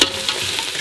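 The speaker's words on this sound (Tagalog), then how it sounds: "Continue stirring the spices until the onions become translucent." A spoon stirs spices with onions frying in a pan for duck humba, soft scraping strokes over a low steady sizzle with a couple of brief louder clinks, close up and without voices.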